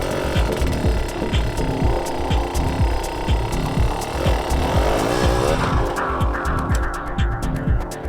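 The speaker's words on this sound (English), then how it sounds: "Listen to the engine and hear how controlled Tim is with his clutch slipping to hold the bike in place." An enduro motorcycle's engine revs in rapid, pulsing bursts as the rider slips the clutch to hold the bike in place on a log, loud and close throughout.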